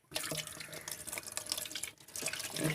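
Water gushes from a tap in a close, splashy stream during an aquarium water change, running steadily for a few seconds with a faint voice in the background.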